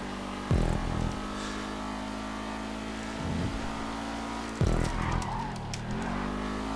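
Race cars roar through a GTA 5 Online race: a steady engine drone with surging revs and tire squeals as other cars pass close by.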